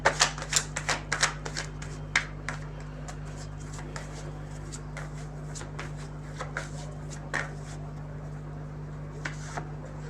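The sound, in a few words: shuffling love tarot cards for a reading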